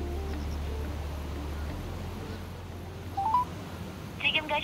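A mobile phone call being dialed, with a few short touch-tone dialing beeps near the end over a low steady hum and background noise.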